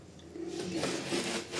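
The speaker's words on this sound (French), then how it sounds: "Pareil, je coupe, je scie, voilà, tout simplement des tartines" Bread knife sawing through thick slices of walnut levain country loaf, a short rasping back-and-forth scrape of crust heard close up.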